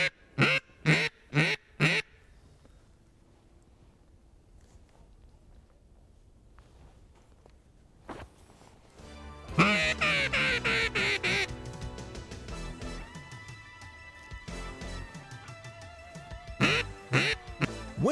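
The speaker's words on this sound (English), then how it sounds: "Them are ducks." Wild ducks on a hunt quack repeatedly, with a few loud near calls at the start and a busier, louder stretch of overlapping quacks and honks later on.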